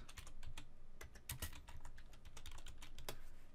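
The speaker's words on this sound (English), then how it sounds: "you will type in a few little commands for this to be done" Keys clatter on a computer keyboard as a command is typed into Windows 10, a steady run of close, crisp clicks with brief pauses and a couple of louder strokes, no voice present.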